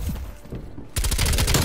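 Bursts of MP5 submachine gun fire in the Call of Duty: Black Ops Cold War shooter, a rapid loud volley in the second half after quieter muffled game sounds.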